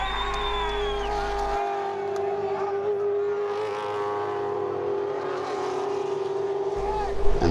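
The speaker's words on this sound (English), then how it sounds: "It's Greg Murphy overtaking Stephen Richards." V8 Supercar race cars at Bathurst during a battle for second in the closing laps, a steady high engine whine with shifting pitch that carries throughout, under race commentary.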